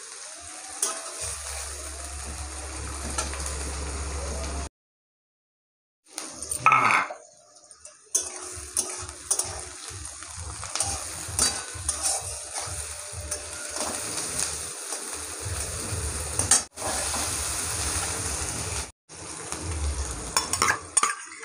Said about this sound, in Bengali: কড়াই দিয়ে দিয়েছি পেঁয়াজটাকে ভালো করে ভেজে নেব।